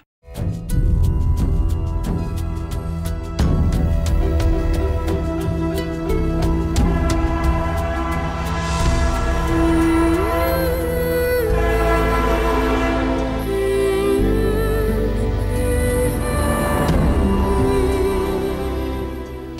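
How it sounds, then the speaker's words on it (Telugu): A train at a railway station, with long sustained horn-like tones and a steady rumble. The sound is loud and continuous, with no talking. "ఇక్కడరా, రైల్వే స్టేషన్లో రా"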